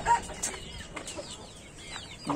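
A crossbred hen clucks in short, soft calls from close by, with faint scratching and bird sounds around it and no talk.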